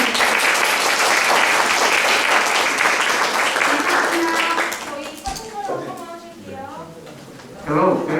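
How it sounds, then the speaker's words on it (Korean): Audience applause at the close of a safety city session of a world human rights forum, loud and sustained for about five seconds before fading into scattered talk and a voice speaking. "다 같이 박수로 주세요."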